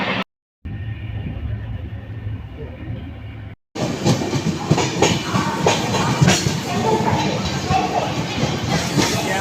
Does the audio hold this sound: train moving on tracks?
yes